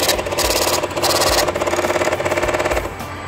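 A delivery ticket printer on a PRO-6000 bulk DEF transfer skid prints, giving a rapid rhythmic mechanical chatter with brief pauses, close and fairly loud, with no talk.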